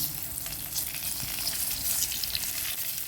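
Steady, crackling sizzle of dried fish frying in hot oil, close and continuous, with small pops throughout and no talking.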